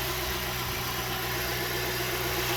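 A Kia Soul engine idles smoothly after a cylinder head repair, giving a steady, even hum with no breaks and no voices.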